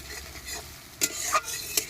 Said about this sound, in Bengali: গোটা জিরে, তেজপাতা আর পেঁয়াজ দিয়ে দিয়েছি ফোড়নে